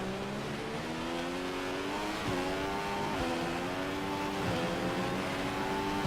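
A Formula 1 car in the F1 2015 racing game at the Bahrain Grand Prix climbs through its gears, the engine whine rising and dropping sharply at each of several upshifts, steady and loud with no talking.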